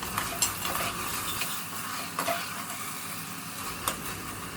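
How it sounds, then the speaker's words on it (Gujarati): A spoon stirring cluster bean sabzi in a pan, soft scraping strokes with a few clinks over a faint steady sizzle, close and unaccompanied by talk. "2 મિનિટ પછી આ રીતે ખોલીને એક વખત ચમચા વડે ચલાવી લેવાનું છે"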